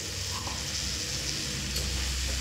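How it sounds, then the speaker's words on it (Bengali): Boiled chicken pieces sizzle steadily in a pan over a low flame, a continuous soft frying hiss with faint stirring, no voices. "এবার দিয়ে দেব যে চিকেন আমি সিদ্ধ করে রেখেছিলাম সেই চিকেনগুলো"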